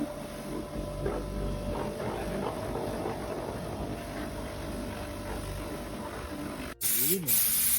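A steady, close hiss of a spray gun applying primer to a VAZ 2108 car runs for several seconds, with faint background voices, then cuts briefly and resumes.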